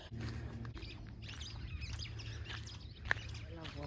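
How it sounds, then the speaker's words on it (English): Faint birds chirp and tweet over a low outdoor hum on a hike, with one sharper call standing out briefly. "Listen to the birds, the ambience."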